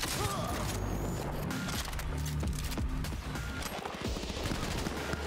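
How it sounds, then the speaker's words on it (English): Shotgun fire in Cyberpunk 2077, a dense run of rapid blasts and mechanical clatter amid a busy game battle soundscape. "It's kind of nice to be using a shotgun again."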